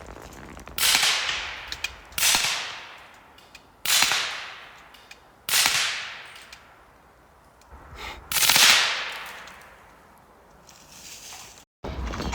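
Subsonic .300 Blackout rifle shots fired 45 yards away ring out as five sharp cracks with decaying tails, spaced roughly one to three seconds apart, each fading before the next.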